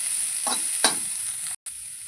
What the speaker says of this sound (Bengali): দিয়ে এটাকে ভালো করে নেড়ে চেড়ে ভেজে নেব।